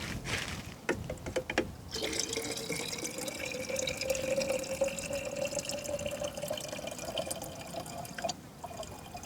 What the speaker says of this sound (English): it's gonna leak until you start putting water in your bottle